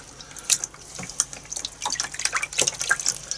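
Running hot water from a tap rinses dyed deer hair for fly tying, close and fairly loud, with splashing and drips breaking in irregular bursts.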